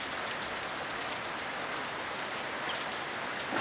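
Rain falls steadily in the Paraguayan wilderness, a soft, even hiss of drops with faint patters on surfaces, moderately quiet and continuous throughout.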